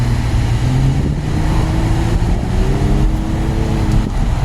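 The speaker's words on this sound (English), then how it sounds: "The car sounds great now without that exhaust leak" A loud Nissan Maxima engine, its exhaust leak repaired, drones steadily, then revs higher with rising pitch partway through, close and unbroken.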